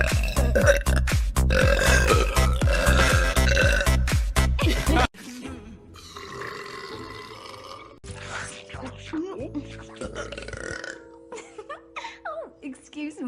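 A string of loud, drawn-out burps, some deep and croaking, others rising or bubbling, close to the listener, interrupted by backing music and brief effects, with voices heard at times.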